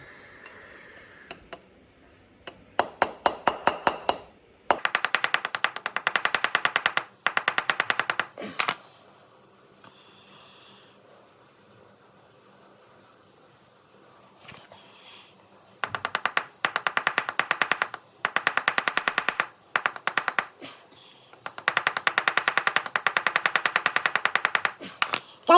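Repeated rapid bursts of sharp metallic taps from hammering the pin of a straight razor blade during rescaling and pinning, clustered in quick rattling runs separated by quiet pauses.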